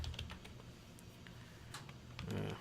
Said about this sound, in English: I'm gonna just type df.